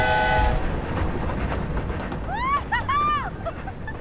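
A train runs steadily in the Hogwarts Legacy video game, a loud continuous rumble lasting throughout, with brief curving tonal calls rising over it near the middle.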